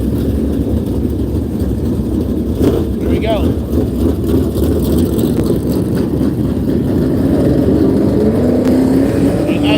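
Crate Racing USA Series cars run qualifying at Hendry County on a cold night, their engines a loud, steady roar with a rising pitch near the end, while a person speaks briefly close by.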